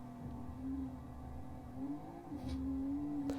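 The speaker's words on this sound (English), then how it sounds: "it's essentially an open world driving game, so you can go completely off track, as I'm doing here" A car in the Forza Horizon driving game leaves the track, its engine holding a steady hum that swells as it revs, continuous and up front with no talking.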